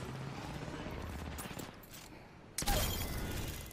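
Sustained automatic fire from the Spitfire machine gun in a video game, a steady stream of shots that breaks off, then a louder blast of noise near the end.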